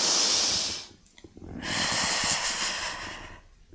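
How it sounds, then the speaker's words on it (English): Deep yoga breathing: a long, loud inhale followed after a pause by a long exhale, close and breathy, with no talk over it. "Take your another inhale and then you exhale"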